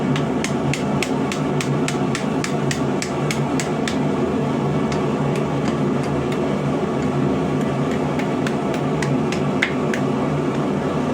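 Steel hammer blows ring out on split rebar worked over the corner of an anvil, a long run of sharp, evenly paced metallic strikes with short pauses, close and loud over a constant background hum.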